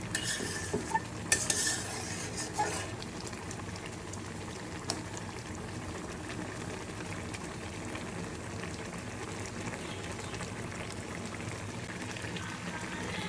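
Giant river prawns with Malabar spinach cook in a pan, a continuous low bubbling simmer with a few clinks of a utensil and stirring scrapes near the start, and no talking.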